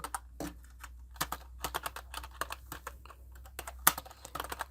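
Steady typing on a computer keyboard while filling in an exam admit card, with quick irregular key clicks and a few louder taps, close and alone with no voices.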